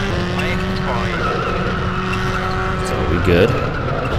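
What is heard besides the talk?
car drifting and skidding on tarmac in WRC II Extreme video game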